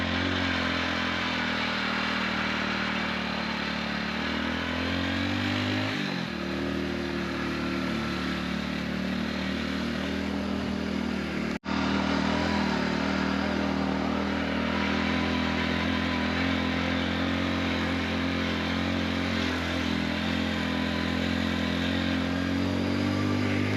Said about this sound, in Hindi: इस वक्त हम बाइक से सचिन मिश्रा जी के साथ इस किले को घूमने जा रहे हैं।